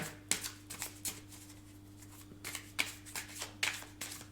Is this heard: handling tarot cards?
yes